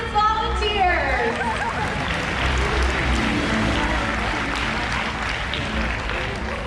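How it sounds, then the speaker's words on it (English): Audience applause at a SeaWorld killer whale show in the Shamu Stadium, a broad, steady roar of clapping from a large crowd sustained throughout, with chatter and voices mixed in beneath. "How about a round of applause for our audience volunteers?"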